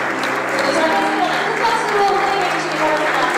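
A large audience gives warm applause welcoming the presidents of Korea and Brazil, a dense, steady roar of clapping from many hands that holds evenly throughout without breaks.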